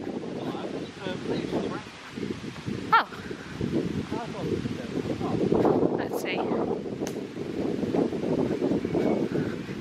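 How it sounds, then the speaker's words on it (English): Strong wind buffets the microphone in a steady low rumble outdoors at Castle Howard, with brief speech partway through. "It's really windy now."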